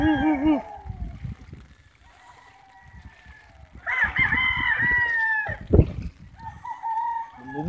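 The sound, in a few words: roosters crowing during flood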